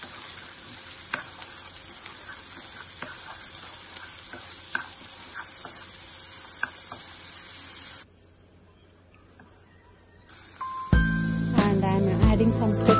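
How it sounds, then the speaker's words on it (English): Cabbage, carrot and beans sauté in a hot pan with a steady hiss and crackle of frying and occasional stirring clinks, the sizzle dropping away briefly before a louder, brighter burst returns. "And I am adding cabbage and carrot and beans. And saute them till they are half cooked."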